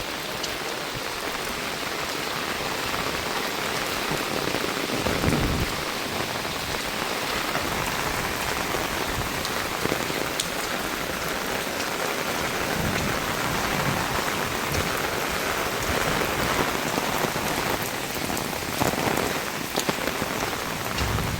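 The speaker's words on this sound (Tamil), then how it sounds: "இடி அடிக்குது, அப்போ மழை வரும்" Heavy downpour during sudden flooding in Sri Lanka, a dense steady roar of rain on surfaces with continuous patter throughout, with no distinct thunder standing out and no voices.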